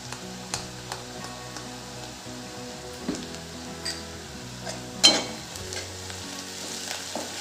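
Asafoetida frying in hot oil over a low flame for a cabbage dish, a soft ongoing sizzle with scattered light ticks and clinks of a utensil, one sharper knock midway.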